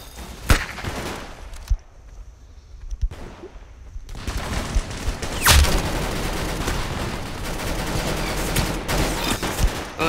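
Gunfire from an M40 sniper rifle and other weapons in the Roblox-style shooter game Arsenal, with sharp shots, a brief quiet gap, then a dense stretch of rapid overlapping fire and booms, loud and close.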